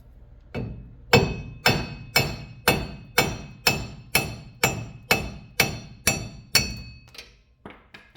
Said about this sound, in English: this is a 3-pound hammer, and pound that stud through